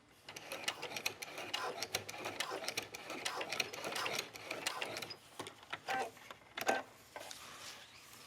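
A sewing machine stitches around a dog leash strap in quick, busy bursts of needle chatter with short pauses, close and fairly quiet.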